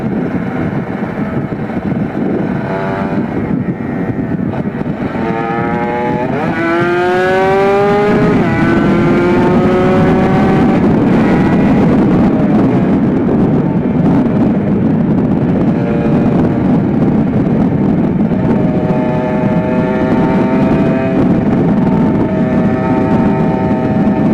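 Motorcycle engine and exhaust while riding in busy traffic, on a bike that seldom goes out, with a carbon-clogged exhaust that smoked heavily on warm-up. Steady loud engine drone with rising rev sweeps and heavy wind rush, no talk.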